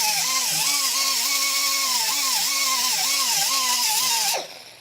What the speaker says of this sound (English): I found the quickest way is just take a die grinder and a cutoff wheel and kind of come in here from the side.